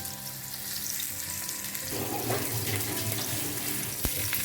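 Stuffed mackerel, Goan style, fries in a pan, a dense, close, continuous hiss and crackle of hot oil that holds steady, with one sharp tap near the end and no talk.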